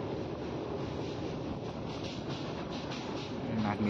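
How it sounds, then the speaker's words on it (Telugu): Rumbling train crossing a bridge over the Krishna river, a steady low roar and rattle heard from a distance, with wind buffeting the microphone throughout. "బ్రిడ్జ్ మీద ఏదో ట్రైన్ వెళ్తుంది"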